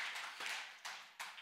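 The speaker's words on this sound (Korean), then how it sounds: "박수 한번 칩시다." Church congregation clapping during a sermon, a few faint scattered bursts of hand claps spaced apart, quiet and somewhat distant, with no voices over them.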